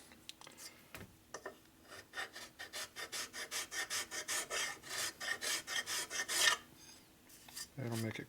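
A coarse hand file cuts epoxy and aluminum on a 1977 1000cc Sportster Ironhead engine being rebuilt, with a series of about a dozen rhythmic, close rasping strokes that speed up and grow louder, followed by a short scrape at the end.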